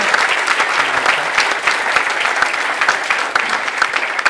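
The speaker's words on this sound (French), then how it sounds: "on peut les applaudir" A crowd at the Paris mayor's New Year address applauds the city staff with close, dense, steady clapping that fills the whole stretch with no pause.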